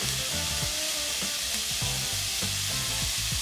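Crushed onions and a little garlic fry in a pan for Mauritian fried rice, a loud, steady sizzle close by, with rhythmic scrapes of a utensil stirring throughout.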